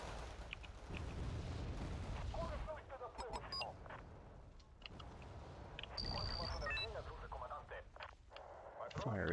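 Mortar fire in a video game battle, with repeated heavy booming blasts and rumbling explosions over several seconds, layered under ongoing talk.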